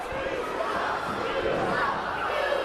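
Wrestling fans at a live show jeer and murmur at Sebastian Suave, a steady, dense wash of crowd noise heard under a commentator's voice throughout.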